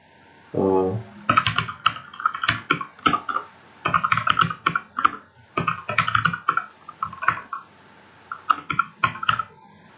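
Typing on a computer keyboard, with quick close bursts of clicky keystrokes in irregular runs, preceded by a brief voiced sound.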